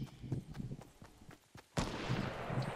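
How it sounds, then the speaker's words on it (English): Gunfire in a Fortnite match: a series of sharp, fairly distant shots spaced through a busy game soundscape, followed by a louder, broader burst of noise near the end. "I heard gunshot. Is that you?"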